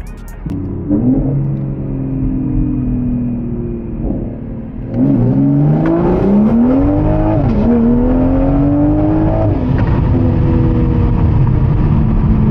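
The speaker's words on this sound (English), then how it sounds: "He wants me to send him 2nd gear from 2000 RPM all the way to top of 3rd." A big-turbo Toyota Supra fitted with a DAW Ultra Flow R turbo idles, then pulls hard from about 2000 RPM through 2nd gear into 3rd. The loud engine note climbs steadily, with a clear gear change midway, and then rises again.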